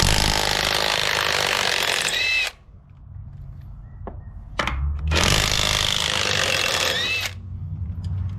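A power tool loosens the lug nuts on a boat trailer wheel in two long, loud whirring bursts. A short quiet gap between them holds a few clunks.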